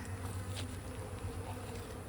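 A small swarm of honey bees, roughly a pound and a half, on the ground: a steady, continuous buzz with a low hum underneath that holds level throughout, close by and with no voices.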